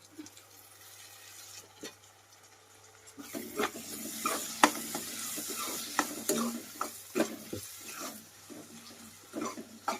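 Tomatoes with chilli powder, salt and turmeric fry in a pan, a soft sizzle under scattered stirring scrapes and clicks, fairly faint and close, with no talk.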